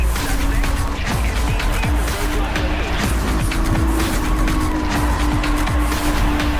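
Marussia B2 supercar in the racing game Rivals, with a loud, constant engine drone and repeated tire squeals and skids as it corners, all close up and continuous.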